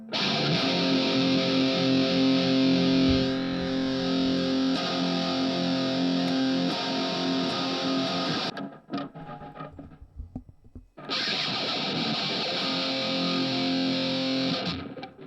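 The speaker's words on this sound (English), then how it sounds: "I need to turn this over to some sort of distortion" A duplicated emo dream pop music track runs through a heavy distortion effect, producing a dense, buzzing, saturated wall of sound that cuts out briefly mid-way and then returns loud and sustained, with no voices.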